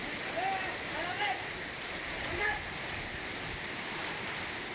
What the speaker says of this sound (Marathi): परिसरात मुसळधार पाऊस झालाय